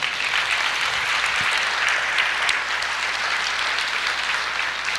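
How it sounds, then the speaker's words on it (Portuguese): A church congregation applauds throughout, a steady dense wash of clapping from many hands at fairly loud level with no break. "Você pode aplaudir o Senhor?"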